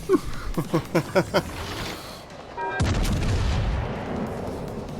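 Secondary guns on the Tirpitz battleship in World of Warships Legends fire a rapid, evenly spaced string of six sharp reports, followed after a pause by a heavy boom with a long rumbling tail.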